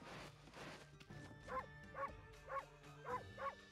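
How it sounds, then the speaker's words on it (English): A dog in the video game Okami barks in a steady series of five evenly spaced, moderately loud barks over quiet background sound. "Oh, stop barking."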